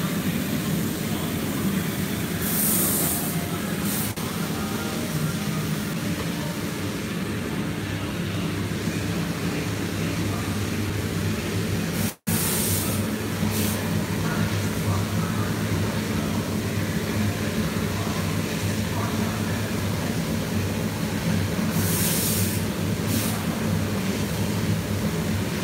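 A laser cutter runs continuously while cutting Rocket King rocket stove parts, a steady broadband whir and hum with faint hissing bursts, one abrupt brief dropout midway, no voices.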